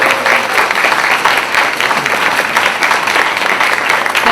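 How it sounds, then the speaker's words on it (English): Dense, steady applause from an audience at an awards induction ceremony, loud and continuous throughout with no talk over it. "Please join me in giving a round of applause"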